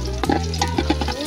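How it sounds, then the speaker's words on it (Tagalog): Garlic, onion and ginger sautéing as the base for lugaw, a brief burst of close stirring and scraping over a low, steady hum, with a few quick clatters. "igigisa muna natin yung bawang sibuyas at luya"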